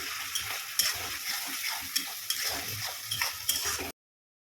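Spice paste sautéing in hot oil with a bay leaf and torn green chilies, a steady close sizzle broken by regular scrapes and knocks of a stirring spoon against the pan; no talking.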